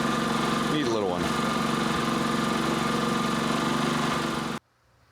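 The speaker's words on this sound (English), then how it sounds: "Nice little GX140 saved from the scrap. Actually runs really nice." A Honda GX140 small petrol engine, repaired after burning oil, idles with a steady, even mechanical drone close by for over four seconds before cutting off abruptly into near silence.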